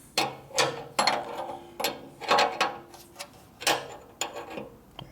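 A ratchet tightens a part on a 1941 Harley WLA 45ci flathead bobber, sounding as rapid bursts of close, sharp metallic clicks repeated in short, regular strokes with brief pauses between them.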